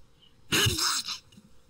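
A single sharp human sneeze bursts out close and loud, lasting about half a second, followed by a faint trailing breath in a quiet room.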